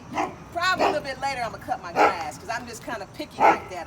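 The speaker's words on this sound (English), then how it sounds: "that's my neighbor's dog barking at me" A neighbor's dog barks in short yips and bow-wows at moderate distance, recurring several times beneath a person talking outdoors near a front sidewalk.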